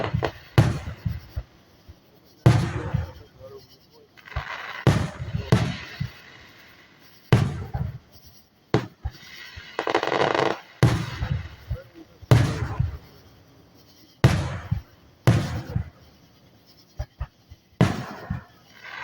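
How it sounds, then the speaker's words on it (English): Fireworks burst in a series of sharp booms and crackles at irregular intervals, some distant, with people talking between the blasts. "Just look at the fireworks."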